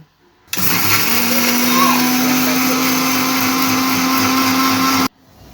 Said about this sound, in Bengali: সেজন্য এগুলো আমি ব্লেন্ডারে গুঁড়ি করে নিব